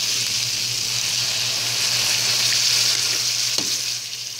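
Pork stock pours into a hot pan for pork asado filling, giving a steady, loud sizzle and frying hiss throughout with a brief splash near the end, no voices.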